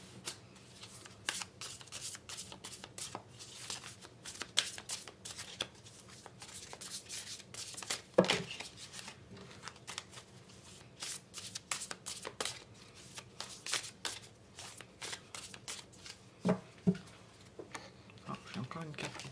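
Tarot cards shuffled by hand in repeated riffling bursts throughout, close and clear, with a person talking quietly underneath at times.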